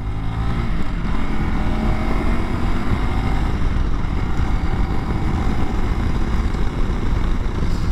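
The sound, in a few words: 2021 Honda CRF300L Rally motorcycle riding on road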